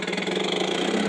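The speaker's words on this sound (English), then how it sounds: "If you listen to how low this thing idles down" Johnson Sea Horse 3hp outboard motor idling low, a steady close putter with even mid-range hum and no talk over it.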